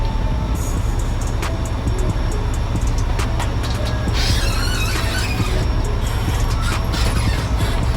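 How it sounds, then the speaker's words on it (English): A semi truck engine runs loud and steady close by, a constant heavy rumble that carries some metallic clinks and rattles from brake work on the truck. "I hope you guys can hear over the truck."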